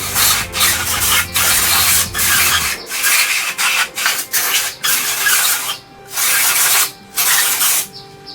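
Chain cleaner is sprayed onto the cylinder head of a CD50 engine in loud, close hissing bursts of varying length, separated by short pauses and rubbing, with no one talking.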